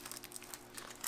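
Cellophane wrapping around matches from a 1960s storm kit crinkles faintly and close by, with a soft, continuous crackle and no talking.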